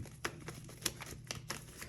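Tarot cards being shuffled by hand in a quick series of crisp riffling bursts, near and clear, alone without speech.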